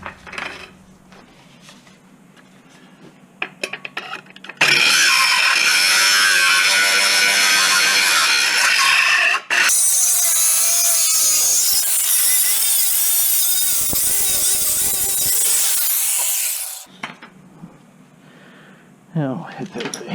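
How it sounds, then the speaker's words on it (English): An angle grinder cuts into the exhaust flex pipe of a Nissan Murano in a garage, a loud harsh whining screech in two long passes of about five and seven seconds, with brief clanks and sparse talk around them. "Now we can get a little bit better in there with the grinder."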